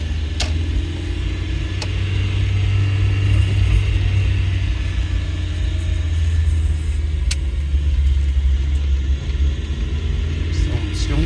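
A 1989 Nissan Sentra with a manual transmission and a newly replaced clutch cable pulls along in first gear, its engine holding a steady low drone and rumble throughout, with occasional faint clicks.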